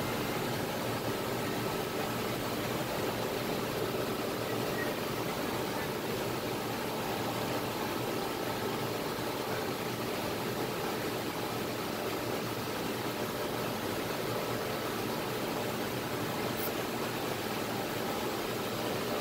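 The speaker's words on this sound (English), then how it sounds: "Now the vacuum is in working" A vacuum plasma PCB cleaning machine pumps down its chamber, giving off a steady, unbroken hum and hiss that holds at an even level throughout, with no voices.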